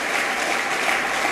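A church congregation applauding during a French-language service, a dense, steady wash of many hands clapping that fills the space evenly from start to finish with no pauses.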